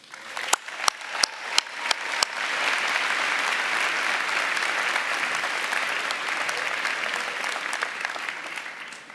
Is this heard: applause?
yes